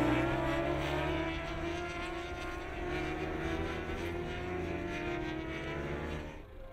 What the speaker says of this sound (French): Mais malheureusement, il est vite repris par Leblanc dès les premiers virages.